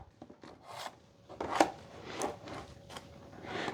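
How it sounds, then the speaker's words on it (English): Drywall joint compound is loaded and spread with a medium taping knife, giving soft, irregular scraping and smearing strokes with a few sharper clicks, quiet and close with no talk. "So for this, medium knife, get some mud put on there"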